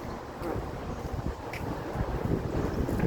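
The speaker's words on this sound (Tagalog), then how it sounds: "Lakas ng hangin." Strong wind blows outdoors, a steady, close, roaring rush of buffeting noise across the microphone that continues without a break.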